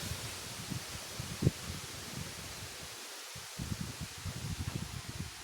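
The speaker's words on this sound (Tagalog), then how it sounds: "Lakas ng hangin sa labas mga idol ah." Strong wind gusts outdoors, with low rumbling bursts buffeting the microphone and a soft rustle between them, rising and falling irregularly.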